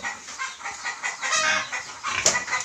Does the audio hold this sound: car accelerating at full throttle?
no